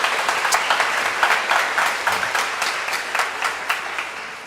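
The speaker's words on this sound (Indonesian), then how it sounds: "maka mari kita tepuk tangan untuk mereka" A crowd applauds in a basilica during a Mass, a dense wash of many hands clapping that holds steady and slowly tapers off.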